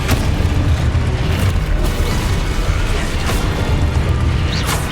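Blasting curses explode in a Hogwarts Legacy spell fight, a dense, loud rumble of booms and bursts with a few sharp cracks over a thick continuous roar.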